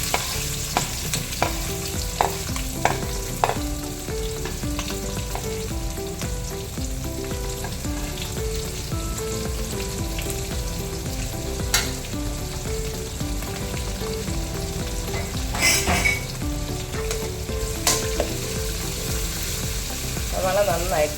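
Finely chopped onion and green chilies sauté in a pan with browned urad dal for rava uppumavu, a continuous close sizzle with frequent scraping and clinking of a stirring spoon.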